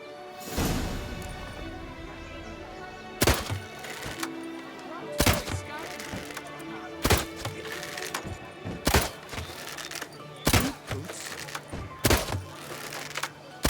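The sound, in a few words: shots hitting red targets in video game The Witcher 3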